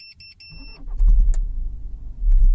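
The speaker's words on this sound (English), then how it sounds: "now if we go and start the vehicle" A VW Passat fitted with an immobiliser is cranked: a brief chime gives way to a loud, close engine turnover that catches, sputters and dies, followed by a second short surge.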